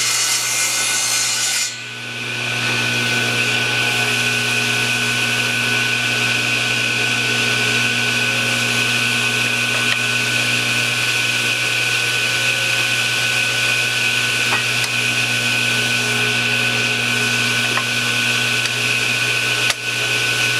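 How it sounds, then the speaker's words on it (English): A table saw trims walnut to cut a nut groove for a cigar box guitar: a steady, loud motor whine and hum that runs unbroken for about twenty seconds after a brief start. "I've got my table saw set up to run the groove for the nut"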